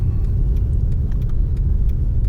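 A Mercedes-Benz car drives along snowy Interstate 70 in an Illinois winter snowstorm, giving a steady, loud low road rumble and tyre noise from inside the cabin with a faint hiss of slush throughout.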